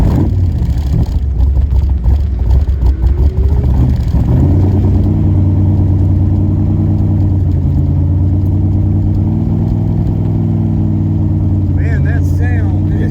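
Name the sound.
classic American car engine revving on a ride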